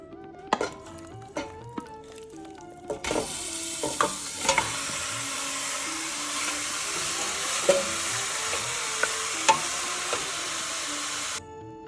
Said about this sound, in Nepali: ल हालौँ है त मासु यसमा अब पकाउनलाई।